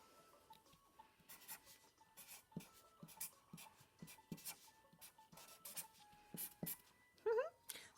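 Pen sketching a squid on paper, quiet scratchy strokes and taps in short irregular bursts, close and faint, with a brief squeaky mark near the end.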